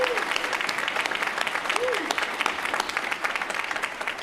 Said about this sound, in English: And he deserves a large round of applause for his commitment to this university.